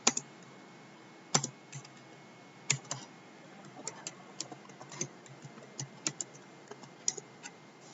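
Keys clicking on a computer keyboard while a material name, chromium vanadium, is typed into the engineering data table of Ansys Workbench; quiet, irregular keystrokes with a few sharper taps, close and alone with no talk.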